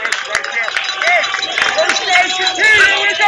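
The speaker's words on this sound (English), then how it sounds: "And the Payton crowd really into it." Spectators at a 16-inch softball championship game cheer and shout continuously, a dense crowd roar with whoops and calls rising and falling throughout.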